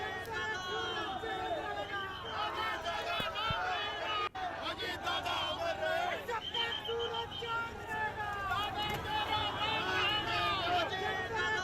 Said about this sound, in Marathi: प्रचंड संख्येने आलेली गर्दी बघतोय आपण.